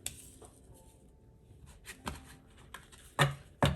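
Tarot cards are shuffled by hand in a quiet room, a few soft riffling taps and sharper card slaps spaced unevenly, close and fairly faint, with no talking.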